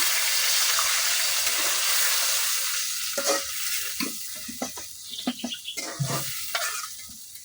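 Water poured into a hot pan of fried onion, garlic and ginger for a bottle gourd curry: a loud hissing burst at first, then settling into bubbling sizzle with spoon scrapes and stirring clatter.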